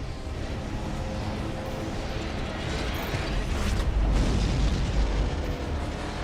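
An enemy warship blowing apart in Armored Core VI, a broad roaring explosion that swells into deep rumbling near the four-second mark over continuous game noise.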